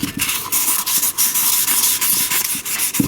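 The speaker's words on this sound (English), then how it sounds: "So it's 1500 grit sandpaper." Fingers work 1500 grit sandpaper by hand over a ridge on a 1937 Briggs and Stratton Model A engine part, making a close, steady, rapid rubbing scratch with brief pauses between strokes.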